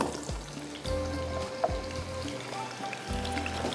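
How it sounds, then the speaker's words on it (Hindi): Cumin seeds and potatoes frying in a pan for mutton pulao, a soft, steady sizzle close by with a few light pops and clatters and no voices. "ज़ीरे के साथ आलू थोड़ा इसको फ्राई करूँगी,"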